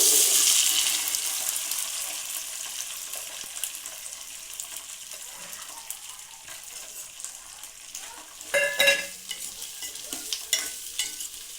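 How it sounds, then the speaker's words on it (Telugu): Garlic cloves frying in hot oil while being stirred, a steady bright sizzle with occasional scraping from a spatula, a louder burst of clattering stirring near the end, close up with no voices. "అప్పుడప్పుడు వెల్లుల్లిపాయలు ఈ విధంగా కలుపుకుంటూ ఉండాలండి."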